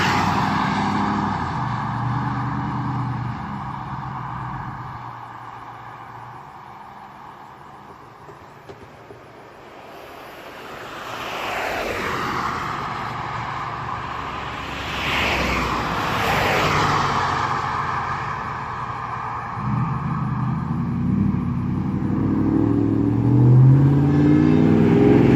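A first-generation Toyota Tundra with its y-pipe removed drives past under normal acceleration, its engine note rising as it approaches and then fading, with steady road and traffic noise throughout.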